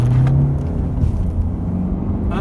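A Honda Civic Sport engine drones low and steady on a test drive, a dense rumble holding close and loud throughout, with a slight lift near the end.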